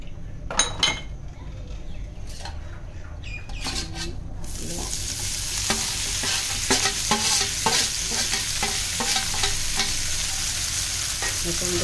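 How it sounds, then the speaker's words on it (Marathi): Tofu and vegetables frying in olive oil in a hot pan: a few utensil clicks and scrapes come first, then a loud, steady sizzle takes over, broken by repeated stirring scrapes and taps. "पॅन आपला तापला आहे, त्याच्यामध्ये साधारण 2 चमचे ऑलिव्ह ऑइल देऊन ते फ्राय होईल असं."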